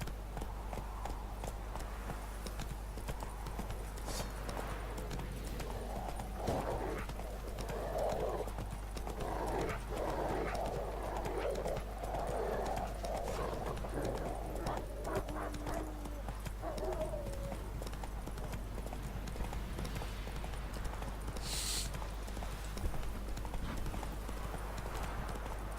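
A horse gallops in the Witcher 3 game, its hooves beating in a quick, steady rhythm throughout over a low game hum, with brief neighs and faint voices now and then.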